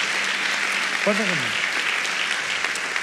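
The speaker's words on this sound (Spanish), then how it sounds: "Un aplauso fuerte para una pareja que se está bajando" A church congregation applauds during a sermon, a steady wash of clapping throughout, with a brief low voice sounding partway through.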